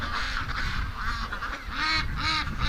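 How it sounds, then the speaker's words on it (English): Panicked backyard ducks in a big flock, honking and quacking in a steady overlapping din at night, moderately loud with no voices. "Like that's freaked out ducks."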